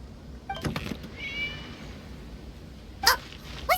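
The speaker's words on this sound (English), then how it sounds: "It was just a cat." A cat in the Genshin Impact video game meows a few short times, with a brief cry early and two sharper meows near the end, heard over quiet game ambience.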